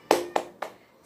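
A classroom spirit clap during a teaching-practice lesson: three sharp, close hand claps in quick even rhythm, each fading fast.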